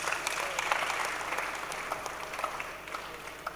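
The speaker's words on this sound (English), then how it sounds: "I want everyone to give themselves a round of applause for being here." An audience at a care and economy conference applauds, a steady mix of many hands clapping with scattered louder claps and faint crowd murmur.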